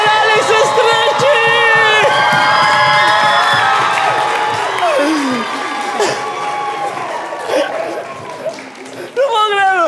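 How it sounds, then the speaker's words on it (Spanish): Loud cheering, whoops and shouts from a studio audience on a Spanish-language comedy talk show, with some clapping, the voices overlapping and fading slightly before a final burst. "¡Un aplauso para Alex Stretchy!"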